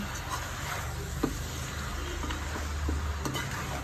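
Beef fries in a pan with oil, giving a steady close sizzle broken by occasional scrapes and taps as the pieces are turned and stirred, with no talking.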